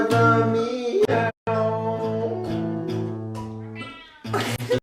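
A man sings to his cat Trevor while the cat meows along, its harmonic cries loud and close and repeating across the singing, with a short gap before a final burst.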